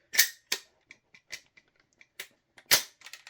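Tokyo Marui MWS airsoft gun with a standard bolt firing 0.2 gram BBs, a series of sharp irregular cracks and clicks, a few loud shots among fainter taps, close with no talk.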